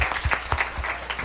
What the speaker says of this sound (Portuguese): Vamos aplaudir, irmão.